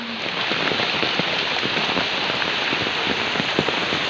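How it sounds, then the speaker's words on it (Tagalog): Typhoon Ulysses brings heavy rain in a dense, steady roar on surfaces close by, with constant patter and sharper drips through the whole stretch and no break. "Ang lakas pa ng ulan."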